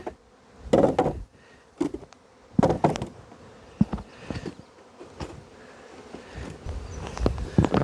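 Bees buzzing faintly around a beehive frame during hive work, a low drone broken by sharp knocks and handling thumps at close range.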